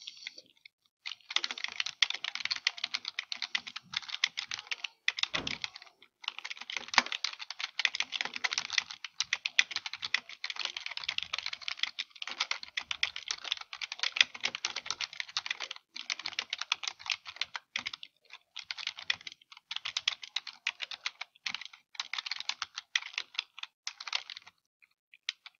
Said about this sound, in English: So this is I'm going to type really quickly.